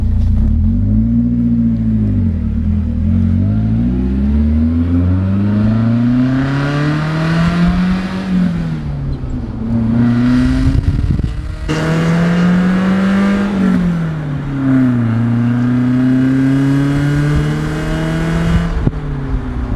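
A BMW with a Valvetronic muffler, its valves open, driving past with a loud, close exhaust note that repeatedly revs up through the gears and drops on shifts, rumbling deeply throughout.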